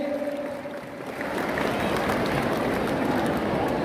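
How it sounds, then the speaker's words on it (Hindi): A crowd gives a big round of applause for young athletes at the inauguration of the Delhi Olympic Games, with dense sustained clapping that swells after a quieter opening and then holds loud and steady to the end. "एक बार मेरे युवा खिलाड़ियों के लिए जोरदार तालियां बजा दीजिए।"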